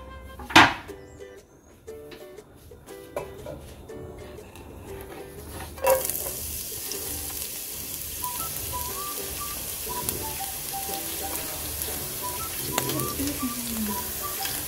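Onions frying in a pan for a Sunday lunch in Dominica, a steady close sizzle with a sharp clatter near the start and a louder burst of hiss as more food goes in partway through.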